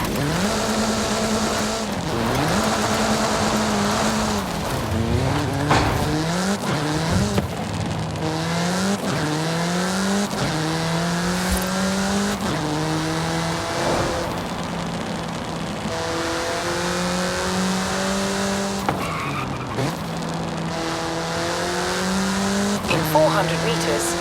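Fast car in the racing game Forza Horizon 5, its engine note rising and falling continuously through gear shifts, loud and close throughout, with occasional tire squeal and a voice talking over it at times.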